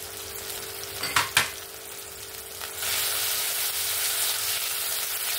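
Ginger paste sizzles as it fries with tomatoes in a pan, with a couple of sharp utensil clinks early on, then a steady, louder frying hiss for the rest.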